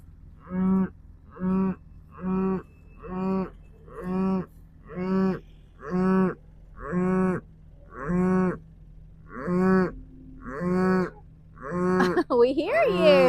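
A cow bellows about ten times in a steady rhythm on a muddy, slushy winter farm at feeding time, the calls loud and close, with more voices and livestock noise piling up at the end.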